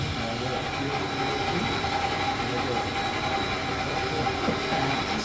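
A restored Union Pacific historic steam locomotive runs in a continuous, dense hiss and mechanical rumble, heard close and loud at an even level throughout.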